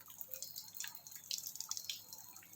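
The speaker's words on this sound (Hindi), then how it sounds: "ये पानी ऊपर से बहता हुआ धीरे धीरे यहाँ से आते हुए" Water trickling slowly down from above and collecting in a pool near a mountain temple at Adi Badri, heard as a faint, steady run of soft drips and splashes close by.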